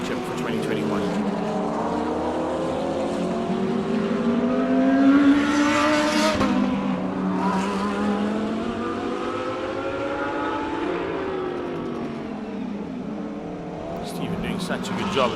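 GT race cars of the South African GT Racing Association scream past on a circuit, multiple engines rising and falling in pitch as they pass, with a commentator talking over the steady racing noise.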